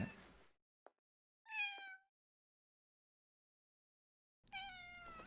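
A cat meows in the video game Timelie: a few separate, clear meows spaced by silence, one short chirp and two longer drawn-out calls, close and alone with no speech.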